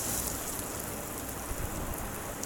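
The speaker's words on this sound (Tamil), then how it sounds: "வெங்காயத்தை ரொம்ப நேரம் வதக்க தேவையில்லை, லைட்டாக வதக்கி விட்டுட்டு கட் பண்ணி வச்சுருக்கிற காய்கறியெல்லாம் ஒன்று ஒன்றா சேர்த்துடலாம்" Onions and chopped vegetables sautéing in a little oil for a bread masala sandwich, a dense continuous crackling sizzle, close and steady throughout, with no talking.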